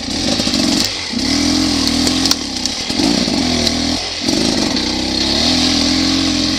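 A Beta 300RR two-stroke dirt bike climbs a steep, slippery wooded trail with fallen trees, its engine buzzing loud and close in sustained revving bursts broken by brief throttle lifts.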